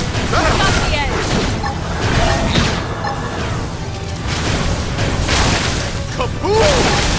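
Explosions and combat blasts in the Xenoblade Chronicles X video game, several booming bursts and crashes over busy battle effects, with character voices calling out over the action.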